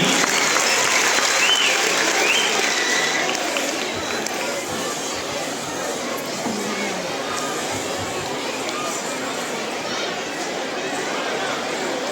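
A large audience at a Marathi cultural programme on the Maratha empire claps loudly and steadily, mixed with crowd chatter, sustained and dense throughout.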